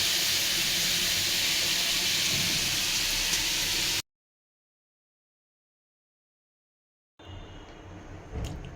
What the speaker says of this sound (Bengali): বলক চলে এসেছে